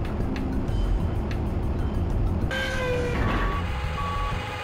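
Forklift reversing beeps in the Shenmue video game, a regular series of high electronic beeps over a steady rumble of engine and background ambience, fairly loud and close, with no talk.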